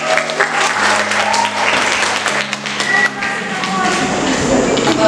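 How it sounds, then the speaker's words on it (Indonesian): Loud, steady audience applause at a student election debate for campus president and vice president, sustained throughout with a low hum and some voices underneath. "sekali lagi beri tepuk tangan yang meriah"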